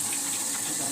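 Water gushing steadily from a tap or being poured over pieces of cut hilsa fish, a continuous close splashing flow for about a second with no voices.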